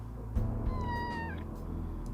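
Mildred, a cat in the point-and-click game Kathy Rain 2: Soothsayer, gives one clear, drawn-out meow with a rising and then falling pitch over a low, steady background hum.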